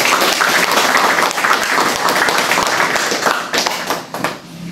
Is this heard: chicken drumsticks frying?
no